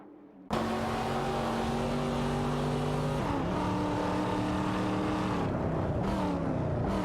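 Lamborghini Murcielago SV and Mosler MT900 race cars in a video game, engines roaring loudly and continuously with rising and falling revs as gears shift, several cars blending together close by.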